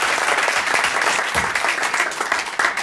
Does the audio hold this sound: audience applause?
yes